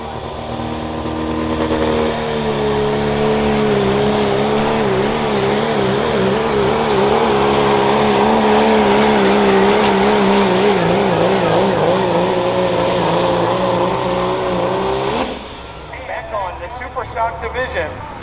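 A Dodge Ram pulling truck roars at full power at the 2021 Hartford Fair OSTPA truck and tractor pull in Ohio. The engine howls loud and steady with a wavering pitch for about thirteen seconds, then cuts off abruptly.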